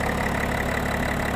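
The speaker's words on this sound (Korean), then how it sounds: "엔진 소리 일정하네요" A BMW X3 xDrive 30d M Sport diesel engine idling with the bonnet open, a loud, steady, even rumble with a faint clattering texture and no voices over it.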